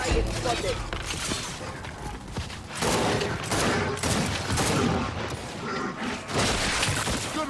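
Dense, repeated gunfire from online Gears 5 play, loud and sustained in bursts across the whole stretch, with voices talking over the shooting.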